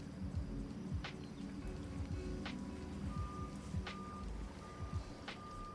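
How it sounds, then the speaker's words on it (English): A truck's reversing alarm beeps at a steady, evenly spaced rhythm over a low rumbling engine and broadband outdoor noise, fairly distant and moderately quiet. "Truck backing up noises."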